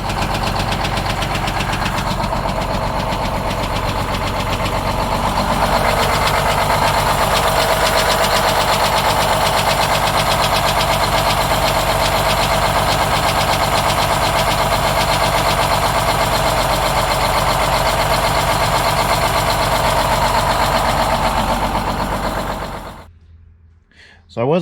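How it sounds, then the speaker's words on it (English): A sick Detroit 6-71 diesel in a 1969 International Harvester truck knocks badly as it runs, a loud, steady, dense mechanical clatter that continues almost unbroken before cutting out abruptly near the end. "on the way back the truck started knocking pretty bad"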